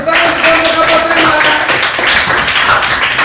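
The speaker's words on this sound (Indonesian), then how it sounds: "Tepuk tangan untuk kelompok apa tema?" Schoolchildren in a classroom clap for a student group, a loud, close, somewhat rhythmic clatter of hands that goes on throughout, with faint voices mixed in.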